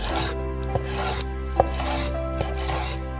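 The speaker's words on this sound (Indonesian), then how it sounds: "Yang terakhir adalah paha ayam. Mari kita potong-potong." A knife strikes a cutting board three times chopping chicken thigh, evenly spaced sharp thuds over a steady background hum.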